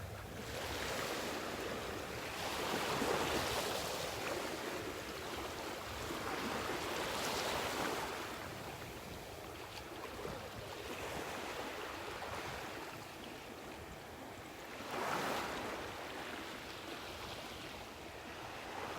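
Water swirling and surging at a beach in North Naples, Florida: continuous rushing surf with periodic louder wash swells every few seconds, close by with some wind noise.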